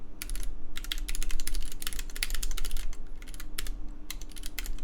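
An RGBKB Banana keyboard build being typed on, its keys clattering in fast, dense, continuous runs of sharp clicks with brief gaps, close and fairly loud over a low steady hum.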